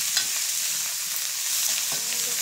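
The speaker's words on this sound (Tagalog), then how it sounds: "Ayan, halo-haloin lang natin." Chayote and cabbage with sardines are stirred in a hot pan, producing a continuous close sizzle with soft scraping of the spoon for a couple of seconds and no speech.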